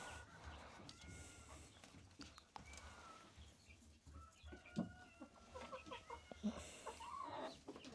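Hens cluck and chatter softly at a moderate distance, with scattered short calls over quiet farmyard background.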